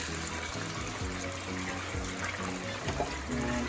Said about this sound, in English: We're gonna add 1/4 of a cup of water